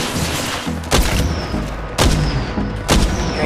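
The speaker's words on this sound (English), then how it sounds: "Opening fire." Gunfire in the mobile battle royale game Apex Legends Mobile: three loud, sharp shots or bursts roughly a second apart, each with a booming low tail, over a steady game background.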